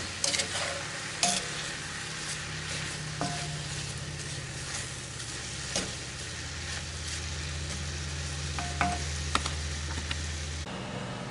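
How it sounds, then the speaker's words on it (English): Strawberries and rhubarb cooking down with sugar bubble and sizzle softly in a pan, with occasional light stirring clicks and scrapes over a low steady hum, no voices. "I'm going to add my sugar and work that in. And let this cook down a little bit."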